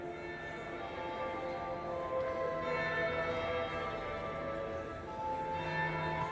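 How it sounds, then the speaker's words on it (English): A ballroom bell in Dragon Age: Inquisition rings with sustained, overlapping tonal chimes that resonate steadily under a faint ambient backdrop, with no talking. "That would be the second bell."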